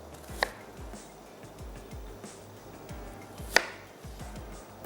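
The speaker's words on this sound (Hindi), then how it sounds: "क्योंकि ये थोड़ी सी बड़ी है तो मैं इसको कर दूँगी 4 टुकड़े" A knife chops an onion into quarters on a board for mutton stew, giving a quiet, even run of soft cuts with two sharper knocks between them.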